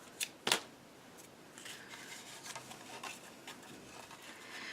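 Paper for a handmade card is trimmed: two quick crisp snips up close, followed by a soft, quiet rustle of paper being handled.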